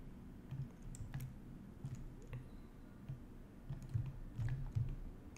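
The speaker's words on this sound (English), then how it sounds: "pressing 1 on the keyboard again" Keys pressed on a computer keyboard during 3D modelling work in Maya, faint scattered clicks and taps over a low background hum.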